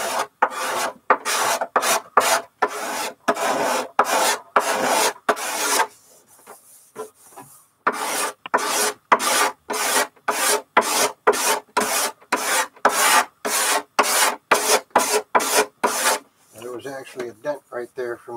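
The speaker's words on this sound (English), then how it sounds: "This is a rounded scraper so you can match the curves." A rounded, somewhat flexible scraper rasps across the wood of an old upright bass during restoration, in quick, steady back-and-forth strokes that pause briefly midway and then resume, close and fairly loud.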